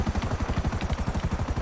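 Police helicopter in GTA Online, its rotor chopping in a steady, rapid thudding rhythm close by, loud and continuous with no talking over it.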